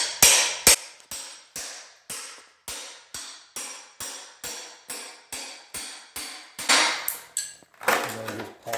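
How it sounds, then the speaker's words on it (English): Crowbar prying up floor tiles: a run of about fifteen sharp, evenly spaced metallic strikes and clacks, close and fairly loud, ending in a denser burst of cracking and scraping as tile breaks loose. "Here we're going to use the crowbar."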